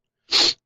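A single short, sharp sneeze, close and loud, with no talking around it.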